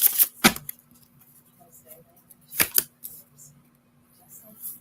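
Oracle cards being shuffled by hand, two quick riffling bursts separated by a quiet pause, close and crisp, with faint murmured talk in the gaps.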